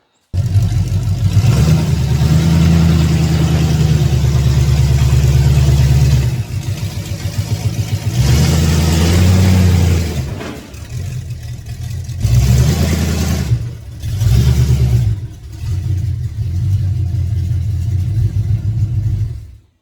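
An old rusty truck with a flat tire rumbles as it is driven backwards, its mid-pitched engine revving and easing in uneven surges, loud and close with no talking.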